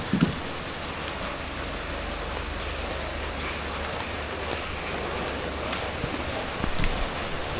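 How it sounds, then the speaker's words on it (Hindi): Heavy rain pouring steadily on the Triund trek in the hills, a dense constant hiss of water with a low rumble underneath and no one speaking. "अभी आज तो बहुत बारिश है"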